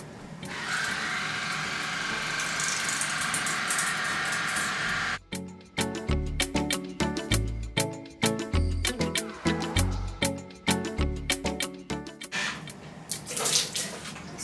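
Oral-B Aquacare 6 cordless water flosser running on intense mode, a steady hiss of water giving way to a rapid pulsing jet that stutters in quick bursts, close and fairly loud.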